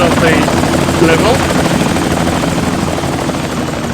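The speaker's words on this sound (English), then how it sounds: "That's Sophie Hapgood up in that helicopter." A helicopter in the Indiana Jones and the Infernal Machine video game roars with loud, continuous rotor and engine noise, a dense steady wash with a few brief whistling tones on top.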